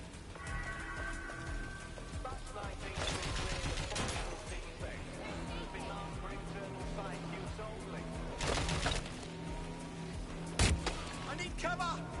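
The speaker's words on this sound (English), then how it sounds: "They're shooting! Suspect's shooting!" A suspect fires on a busy street in the action game Watch Dogs: Legion, producing a few heavy bangs and bursts over constant city noise and a speaking voice.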